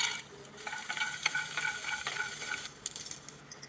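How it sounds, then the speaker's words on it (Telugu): Peanuts frying in a little oil in a pan on the stove, a soft sizzle with the scrape of stirring, close and steady. "ఇప్పుడు స్టవ్ మీద ప్యాన్ పెట్టి కొద్దిగా నూనె వేసి పల్లీలను వేయించాలి."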